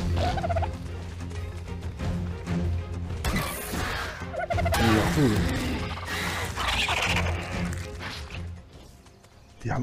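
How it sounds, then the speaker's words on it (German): Giant bird fighting creatures in ARK: Survival Evolved, with gobbling squawks and crashing impacts over a busy, loud game mix while people talk throughout. "Die kämpfen immer noch mit diesem riesen Vogel da."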